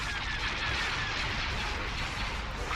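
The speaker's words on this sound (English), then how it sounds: "we'll focus on these Corellian gunships, because they actually fire missiles, as well as laser cannons" Corellian gunships in Star Wars: Empire at War fire missiles and laser cannons in a dense, continuous roar of blasts and explosions with no talk.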